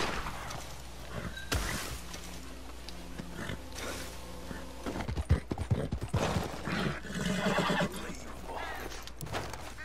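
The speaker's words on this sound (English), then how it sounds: "Look at that horse drift." A horse gallops in the video game Red Dead Online, with steady clip-clopping hoofbeats and a whinny amid busy game effects, heard without any talk.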